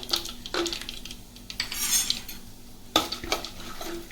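Chana dal and peanuts frying with mustard seeds in oil for vangibath, stirred with a metal spoon that clinks and scrapes against the pan in distinct strokes over a faint sizzle.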